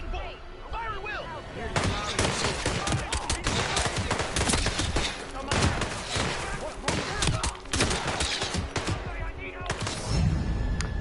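Heavy gunfire erupts in dense, rapid volleys of close, loud shots that crackle almost nonstop, with shouting voices mixed in.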